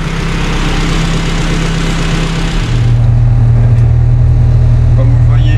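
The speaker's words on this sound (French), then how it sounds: "Le moteur tourne, ça marche très bien." A Honda Civic EP1 track car's engine idles loudly and steadily up close, a low droning hum that shifts to a deeper, stronger tone partway through, with a voice talking over it.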